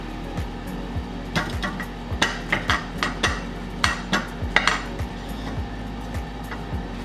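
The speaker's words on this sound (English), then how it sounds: "Potatoes are done. I'm gonna get them ready. Cut them open." Cooked potatoes being cut open in a home kitchen, a knife tapping and scraping against a plate or pan in a string of close, sharp clicks, with a low steady hum underneath.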